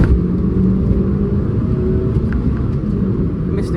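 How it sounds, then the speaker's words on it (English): A Suzuki Swift Sport engine runs hard on a winding road, a loud, steady in-cabin drone and rumble that holds throughout with little variation. "that the car, it loves to rev out. As I was saying earlier, it revs to 7 and it just loves it"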